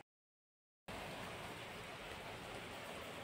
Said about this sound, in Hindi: बाहर फिर से भयंकर वाली बारिश चालू हो गई है।